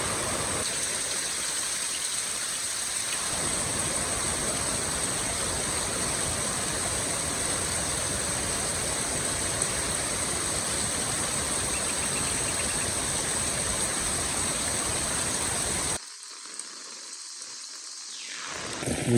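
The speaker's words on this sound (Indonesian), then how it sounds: "suasana hujan di kampung Miduana ya, kampung adat Miduana" Steady, dense rain falls in the Miduana traditional village, a continuous close hiss with no talk, which drops away abruptly near the end.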